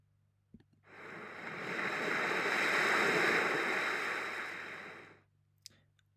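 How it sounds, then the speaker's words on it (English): A surging ocean wave sound effect picked for the start of a Scratch game about a fish, rising into a broad hiss of surf and fading away over about four seconds, with quiet clicks before and after. "I want it to be an ocean wave."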